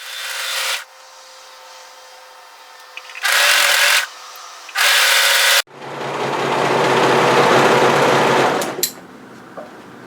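A sewing machine stitches the raw edge of layered bodysuit fabric, running loud and close in short bursts with brief pauses, then settling into one long continuous run before stopping.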